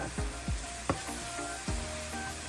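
Chillies sautéing with coriander powder for a Kerala-style tomato curry, quiet sizzling under a few spoon strokes and scrapes against the pan, close and unhurried, no voices.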